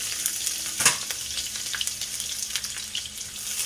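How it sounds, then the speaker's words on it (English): Ginger and garlic sizzle and crackle in hot vegetable oil in a stir-fry pan, a steady close frying hiss with small spatters and one sharper pop, no voices. "We're gonna add more vegetable cooking oil. This time, we're gonna add in ginger and garlic."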